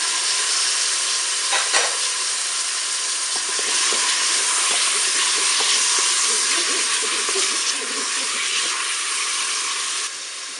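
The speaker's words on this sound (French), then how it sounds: "Je vais maintenant ajouter le saumon." Salmon sizzling and being stirred in a hot pot with butter and onions, a steady loud frying hiss with faint scraping of the utensil throughout.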